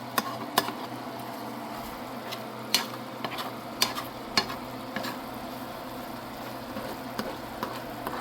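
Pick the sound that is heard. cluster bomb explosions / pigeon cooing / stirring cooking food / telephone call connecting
stirring cooking food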